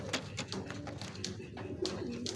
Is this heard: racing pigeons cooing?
yes